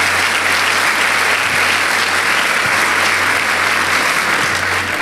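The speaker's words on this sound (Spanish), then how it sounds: "Así que le pido un aplauso también para ellos que están conectados." Loud, sustained applause fills a church as the congregation claps together, a dense, constant roar of hands lasting about five seconds with no voices above it.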